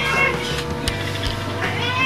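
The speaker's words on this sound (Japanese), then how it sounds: "ピントが、まあまあ言うておりますんで、餌をね、あげたいと思います。" At feeding time a cat gives a few drawn-out meows, rising and falling over a steady low hum, with some faint human voice nearby.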